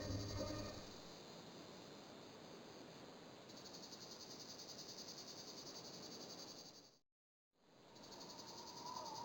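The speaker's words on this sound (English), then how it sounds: "I like the sound. Makes it feel so hot here. Crickets." Crickets chirp in a steady, high, pulsing ambient loop in the video game Broken Sword, a quiet, even night drone that cuts out completely for a moment before resuming.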